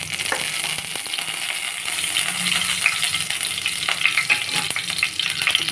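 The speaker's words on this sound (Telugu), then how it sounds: "ఆవాలు, జీలకర్ర, పోపు దినుసులు వేసుకున్నాను" Mustard seeds, cumin and tempering spices sizzle steadily in hot oil while preparing the tempering for gongura pachadi, with scattered sharp crackles and pops throughout and no voices.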